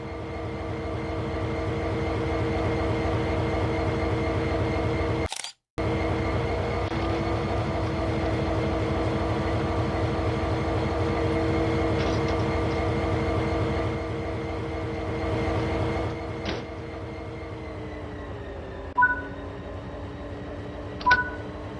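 A locomotive engine in Train Sim World 3, Sand Patch Grade route, drones steadily with a heavy rumbling hum, broken by a brief gap, then a couple of short high electronic beeps near the end.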